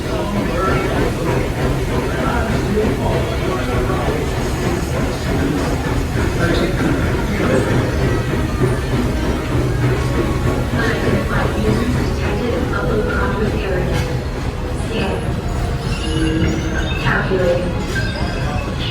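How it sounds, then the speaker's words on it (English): Rumbling ride on a theme park train at Disney World with steady mechanical noise, rattling, and a crowd of voices chattering throughout. "we went back on the train because trains are cool."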